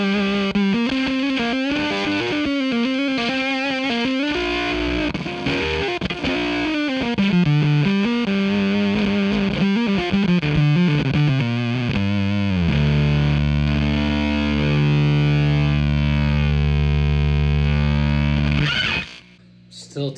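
An electric guitar through a germanium Doomsday fuzz pedal with the gain knob at full plays a dense, heavily distorted line that moves into long sustained chords. It is loud, thick and slightly noisy throughout.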